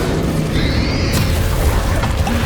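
A Confringo spell explosion in the video game Hogwarts Legacy, a loud, booming blast with a rumbling low body and a brief whooshing sweep, filling the moment with no voices.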